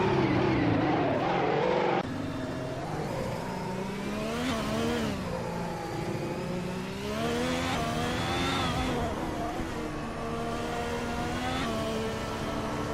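F1 2016 race cars lap a circuit with rising and falling engine whine as they accelerate, shift and brake through corners, loud and close with overlapping cars.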